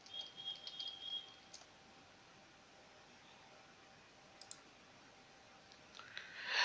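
A computer mouse gives a few faint, isolated clicks against a quiet hiss of room noise.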